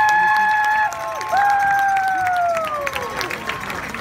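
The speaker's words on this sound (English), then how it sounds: "a nice round of applause for the Kalani High School Falcons marching band" A crowd applauds and cheers for the Kalani High School Falcons marching band at an evening show, a steady wash of clapping under long, rising and falling whistle-like calls and voices.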